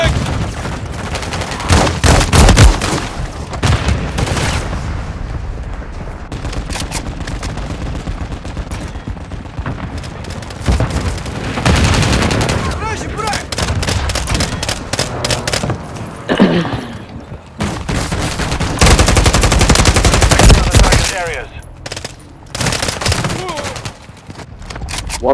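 Sustained gunfire and explosions from the Call of Duty: Modern Warfare III war mode battle, with dense bursts of automatic fire and booms throughout, loud and close, under occasional shouted voices.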